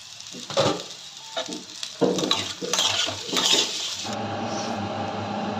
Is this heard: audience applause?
no